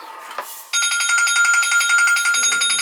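A phone rings loudly and close by with a fast, warbling electronic ring that starts abruptly after a moment of quiet and keeps trilling steadily to the end.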